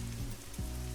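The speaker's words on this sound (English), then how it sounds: "With the fog and the rain." Steady rain in Euro Truck Simulator 2, a broad continuous hiss over a low rumble from the truck cab, with no voices.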